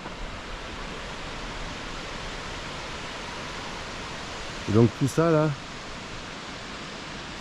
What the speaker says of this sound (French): la cascade des Galets.